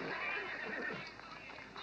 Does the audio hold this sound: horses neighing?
yes